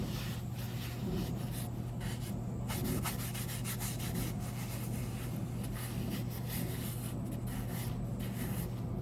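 A cherry wood spoon is rubbed lightly with oil by hand, giving a steady close scratchy swishing friction that runs throughout with a low hum beneath.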